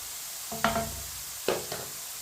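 Potatoes fry in hot oil for aloo bhindi as a spoon stirs them, giving two short scraping clatters over a quiet background sizzle.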